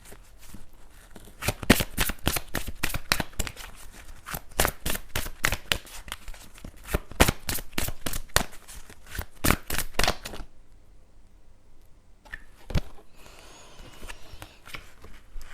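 Tarot cards are shuffled and drawn in a steady run of crisp, rapid riffling clicks for about ten seconds, then the room goes quiet apart from a single snap of a card being laid down.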